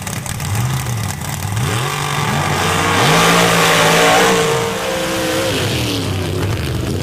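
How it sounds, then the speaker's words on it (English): Race car engine on a dirt oval during an outlaw championship round, revving hard through shifts and climbing to a loud, close roar before easing back down to a steady drone. "Randy George having to drive that thing hard on the near side"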